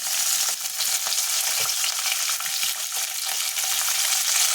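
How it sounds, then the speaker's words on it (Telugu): Green chillies and curry leaves fry in hot oil in a pan, a loud, close, continuous crackling sizzle with occasional spatters and stirring scrapes, no voices. "కొంచెం పచ్చిమిరపకాయలు, కరివేపాకు,"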